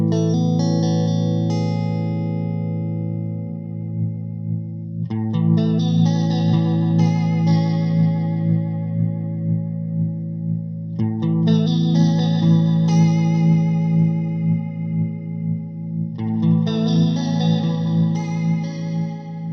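Electric guitar through a Line 6 Spider V amp preset with effects, chiming chords strummed in four phrases with a lush chorus shimmer and light distortion, each ringing out and decaying, close and loud with no talking.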